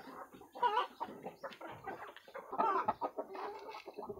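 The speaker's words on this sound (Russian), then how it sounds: "Петух раз пришел, всех позвал" A rooster's low, repeated clucking calls mixed with softer hen clucks nearby, busy and continuous, with no talking.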